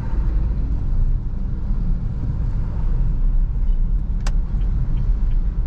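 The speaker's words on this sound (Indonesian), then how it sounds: "angkat kopling seiring penambahan gas sambil lepas handbrake" A car pulls away from a stop in first gear as the clutch is released, the throttle is raised and the handbrake comes off, giving a steady loud low engine rumble with a brief click near the end.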